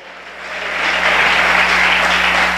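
Church congregation clapping and applauding in praise during a sermon, a dense steady roar of many hands that swells and holds loud throughout.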